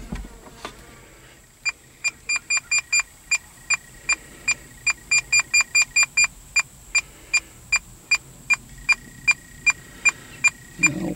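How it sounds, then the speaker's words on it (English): A Hopkins Smart Hitch sensor gives a sharp electronic beep that repeats steadily, with a brief fast cluster in the middle, over quiet background. "I don't care for that damn beeping noise"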